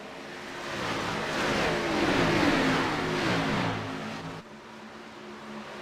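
Stock car accelerating hard at the Monster Mile as the pace car pulls off for a restart, engine roar swelling and fading as the car passes.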